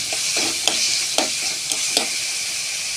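Ginger and garlic paste being stirred into a potato curry in a hot pan: a steady sizzle of frying with five or six distinct scraping stir strokes spaced roughly evenly over the top, with no talking.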